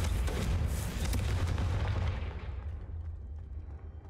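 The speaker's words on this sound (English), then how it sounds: "Imagine the fireworks I can make with this." Fireworks explode in the Hogwarts Legacy video game as a dense, loud burst of booms and crackling that rumbles for about two seconds before fading into a lingering decay, with no talking.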